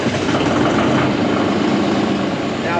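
A tractor engine runs at a steady, loud, low idle in a heated shed after starting, a continuous throbbing drone with no pauses.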